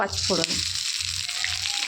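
Steady hissing sizzle of bay leaves and garam masala frying in hot oil, close and fairly loud, with a brief voice near the start.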